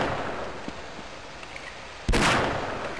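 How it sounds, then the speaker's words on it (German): Revolver shot in the PC game Half-Life, heard as a single sharp, loud blast near the end after a stretch of quiet background noise. "Ich liebe den Revolver."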